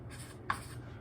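A pen writing numbers by hand on paper makes a brief, quiet scratching run with a couple of small taps, heard close up with no talking.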